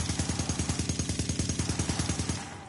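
Rapid automatic SMG fire in a PS4 shooter game, a steady stream of evenly spaced shots at a fast rhythm, loud and close, tapering off at the end.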